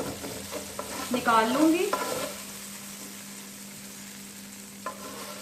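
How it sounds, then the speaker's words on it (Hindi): Okra for masala bhindi fries in a pan with a soft, steady sizzle; someone speaks briefly near the start, then the frying continues quietly alone with one small clink. "3 से 4 मिनट में ये कुक हो गई, इस तरह से फ्राई हो गई।"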